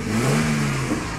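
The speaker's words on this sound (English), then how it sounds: "Dodge Dakota Little Red Express." Dodge Dakota Little Red Express truck engine revving, a short, steady, close engine drone with rising and falling pitch, no talk over it.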